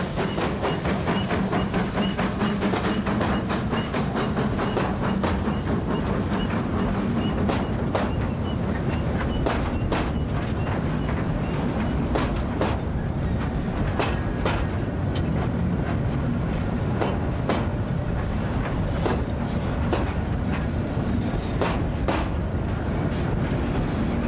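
The Béton Bazoche locomotive of the CFBS heritage railway running along the rails near Saint-Valery, a loud, steady rumble with rhythmic clicks of wheels over rail joints throughout, continuous and close.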